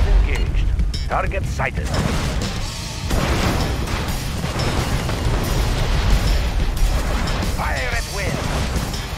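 Cannon fire and explosions from units in the strategy game Mental Omega, a continuous dense rumble of booms and blasts with a few sharper bursts, loud and close, while a unit voice briefly speaks over it.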